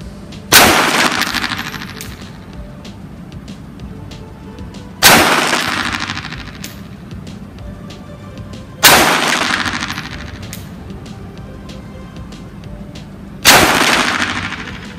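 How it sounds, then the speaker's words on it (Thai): Three .22 pistols go off together in four loud, sharp volleys spaced a few seconds apart, each crack followed by a short decaying ring, with no voices. "ทั้งหมด3กระบอกนะยิงพร้อมๆกันนะฮะ"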